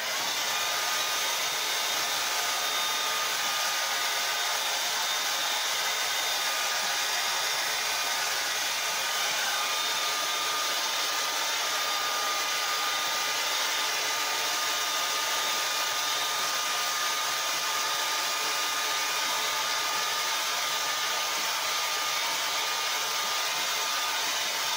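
A hair dryer on high heat blows steadily on a beard, a constant close whirring hiss that stays even for the whole stretch with no talking.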